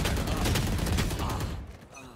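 Phantom rifle spray in the Valorant video game: a dense, loud burst of sustained automatic fire lasting about a second and a half, then cutting off into near quiet.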